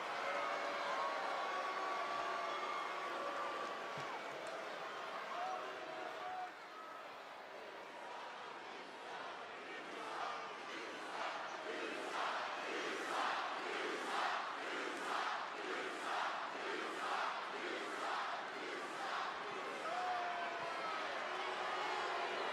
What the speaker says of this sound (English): This crowd is pissed.